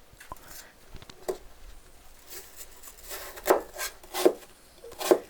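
An apple is diced with a knife into small cubes about 5 mm square, giving soft, irregular chopping thuds on a board, sparse at first and then a few firmer cuts toward the end.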